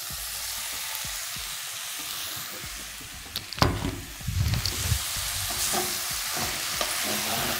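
Okra added to a hot pan of oil with coriander and garlic while cooking with meat: a steady loud sizzle with frying hiss, broken mid-way by stirring clatter and scraping, no talk.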